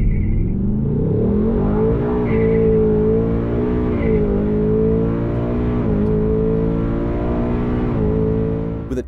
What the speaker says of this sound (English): Our team has tested plenty of Mustangs, so an acceleration run on the Dark Horse was a familiar exercise.